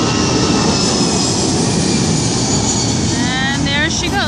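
An airplane landing at Gibraltar roars loudly and close, a dense, constant engine rumble filling the whole stretch, rising in pitch toward the end as it passes.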